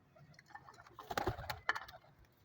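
Pigeons feeding on grain, with soft pecking taps and faint coos and flutters that cluster in a short busy burst midway, quiet and close against a still background.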